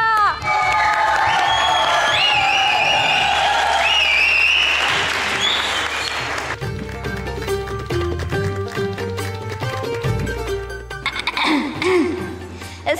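Loud applause and cheering from a large crowd at a political rally stage event, with whoops and shouting, swelling then giving way to music and background voices.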